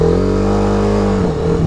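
A TVS Apache RR310 motorcycle engine revs hard and accelerates, a loud, close, steady drone with rising harmonics that settles slightly near the end, with no talking.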